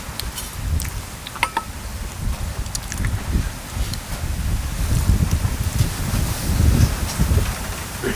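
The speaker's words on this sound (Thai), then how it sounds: "โอ้ลมแห้ง" Dry wind blows outdoors in steady low gusts that roughen the microphone, with scattered rustling and occasional faint clicks, swelling louder toward the end.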